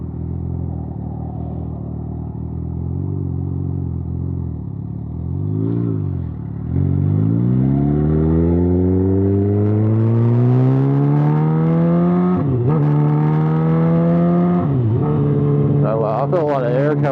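A motorcycle idles and then pulls away on a road, engine pitch climbing steadily through gear changes with brief dips between shifts, loud and close, with wind noise.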